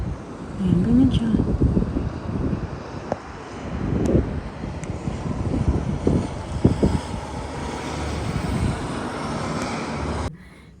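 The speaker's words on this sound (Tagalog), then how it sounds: "puro lang talaga siya hangin na malakas na hangin" Strong wind blows outside a house, a steady roaring rush with low buffeting gusts that swell and ease for about ten seconds, with faint talk underneath.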